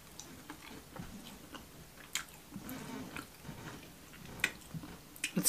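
A pepperoni croissant pizza with layered, chewy dough is bitten into and chewed close up. Soft crunchy bites give way to quiet, moist chewing, with a few sharper crackles near the end.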